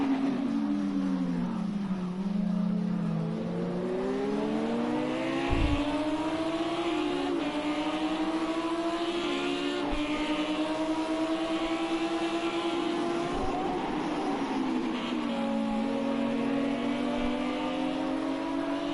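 Race cars, including an Audi, accelerate around the Fuji circuit during night practice, with a loud engine note rising and falling through gear changes, revving repeatedly as cars pass and pull away, with no talking.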